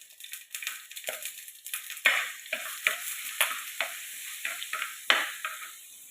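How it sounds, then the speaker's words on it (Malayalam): Ginger garlic paste sizzling in a pan while being stirred, with repeated scraping strokes of a utensil and bursts of frying crackle at a brisk, uneven rhythm, close and clear with no talking. "ആദ്യം നമുക്ക് ഇഞ്ചി വെളുത്തുള്ളി പേസ്റ്റ് ഇട്ട് കൊടുക്കാം."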